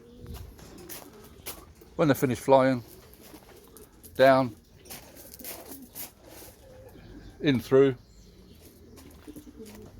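Racing pigeons cooing in their loft, a few soft throaty coos in short bursts at the start, middle and end, heard close while someone talks over the birds.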